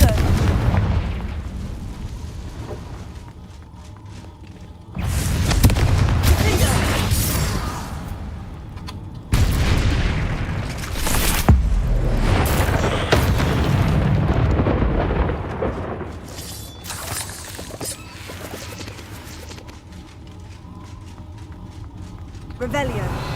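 Booming blasting-spell explosions from the Hogwarts Legacy video game, a series of loud, broad bursts and rumbling blasts over about twenty seconds with dense game effects between them.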